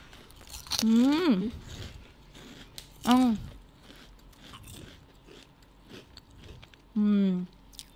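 Crunchy, savory corn snack bitten and chewed in a few loud, separate bursts close to the mic, with voices talking between bites.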